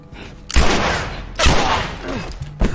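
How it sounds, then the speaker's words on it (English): Gunshots in The Last of Us, three loud, close blasts about a second apart, each trailing into a rumbling echo. "Oh, I didn't mean to shoot him."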